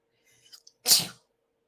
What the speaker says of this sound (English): Hold on, I have to sneeze, of course.